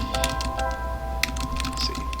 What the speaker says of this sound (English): It's an alphabetical keyboard.